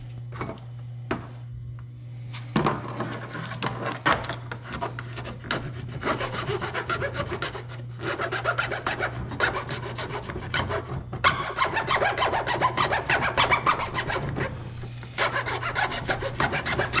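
A hand file works a part for an RC motorcycle motor swap in long, repeated rasping strokes, close and loud, with brief pauses between runs.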